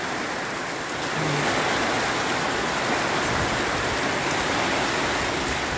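Heavy rain pours down steadily over farm fields, a loud dense hiss that fills the whole span without a break, with no voices over it.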